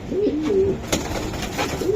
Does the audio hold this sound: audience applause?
no